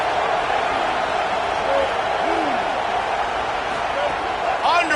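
Steady roar of a stadium crowd at a college football video game, a dense continuous wash of cheering under commentary, with a few whistles and shouts rising near the end.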